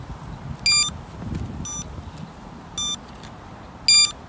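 Short electronic beeps from a drone crashed in a swamp repeat roughly once a second, high-pitched and fairly faint over steady wind and outdoor background noise.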